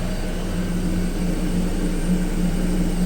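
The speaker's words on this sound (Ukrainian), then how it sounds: "Ну Дивіться, що ви розуміли, як дме тепер пічка я вважаю, це вона тепер дме" A car heater fan blows air in a steady, even whoosh with a low hum beneath, as the engine idles outdoors, with no talking.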